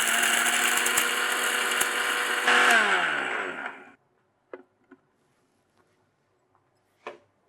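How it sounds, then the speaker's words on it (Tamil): Mixer grinder whirring as it grinds a roasted spice mixture for a Deepavali lekiyam, a loud steady motor whine that runs down and stops, followed by a few faint clicks and taps. "இது இப்போ நம்ம மிக்சியில் போட்டு அரைச்சி எடுத்துடலாம்."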